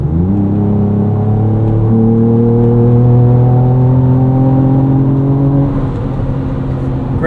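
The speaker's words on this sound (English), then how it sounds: "Let's do a little pull here in sport mode" A 2024 Ford Ranger Raptor with a stock tune on 34-inch Yokohama Geolandar mud-terrain tires pulls at full throttle in sport mode from 55 mph, with a loud in-cabin engine drone rising steadily in pitch through a gear, then easing.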